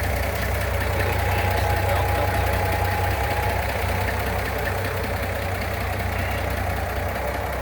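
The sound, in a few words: 1949 GMC 100 pickup engine idling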